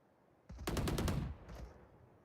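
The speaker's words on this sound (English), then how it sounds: "Is that another shotgun there" Burst of rapid gunfire in a competitive video game match at a Chennai LAN playoff, a loud rattling volley of several shots lasting about a second, then a quieter tail and a second fainter blast.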